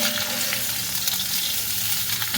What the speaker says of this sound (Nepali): आज वाक्सा मिट पकाउँदैछु मैले चाहिँ।